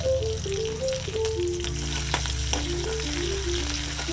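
Chopped onions, green chillies and curry leaves sauté in coconut oil with popped mustard seeds for a Kerala moru curry, a steady close sizzle running throughout beneath melodic background music.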